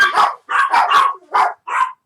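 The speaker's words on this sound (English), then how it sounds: "Every time I go to make a video, my dogs start barking." Dogs bark close by in a quick run of five sharp, loud barks, spaced by brief gaps.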